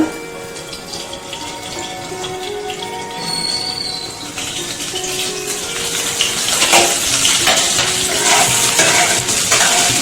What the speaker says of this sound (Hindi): इसको बीच बीच में चलाते रहना जब तक ये पूरे तरह से गोल्डन ब्राउन कलर का नहीं हो जाता है